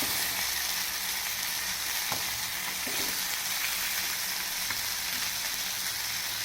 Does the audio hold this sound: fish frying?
yes